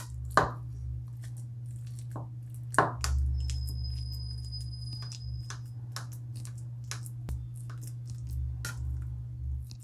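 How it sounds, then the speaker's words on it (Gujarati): Boiled raw bananas being mashed with a spoon, giving a few soft, squishy presses and sharp clicks of metal against the bowl over a steady low kitchen hum, with no talking. "હવે કેળાને મેશ કરી લઈશું ચમચીની મદદથી"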